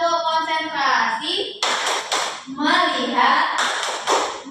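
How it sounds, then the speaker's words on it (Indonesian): Schoolchildren in a classroom perform a rhythmic concentration clap, bursts of sharp hand claps alternating with their chanted group voices, loud and close. "Tepuk konsentrasi"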